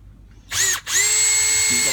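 A power drill spins up, briefly cuts out, then runs steadily while removing the base screws from a vintage Holley 94 carburetor during disassembly, loud and close with a rising whine.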